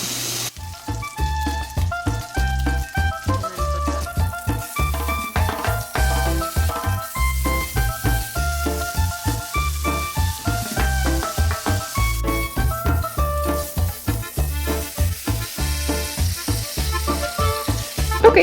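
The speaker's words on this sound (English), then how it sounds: "we're gonna saute one side, saute the other side. So we'll let those crisp up" Fatty meat sautés in a hot pan with a loud, close sizzle that crackles and pops without a break, and the fat spits in a dense, uneven patter throughout.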